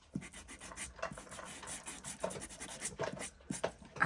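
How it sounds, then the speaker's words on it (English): A sander rubbed up and down along the edges of vintage paper ID tags for a junk journal, giving soft, quiet, rhythmic scratchy strokes close by. "I'm just going to rub the sander"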